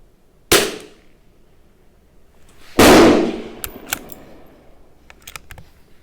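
Two sharp .22 LR rimfire shots from a Tikka T1x rifle during an ammunition test, spaced about two seconds apart, each followed by a short ringing decay and faint clicks of handling.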